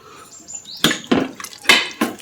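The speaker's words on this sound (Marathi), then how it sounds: "थोडंसं पाणी घालते आणखीन" A little more water is poured into a cooking pot of cheese kurma, giving four or five short, distinct splashing bursts separated by brief quiet gaps.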